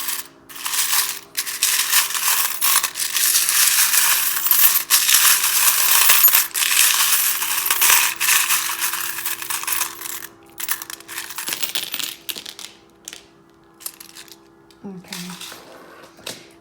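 Dice clatter and rattle together in bursts as they are shuffled, a bright clicking jumble with short pauses, close by and fairly loud.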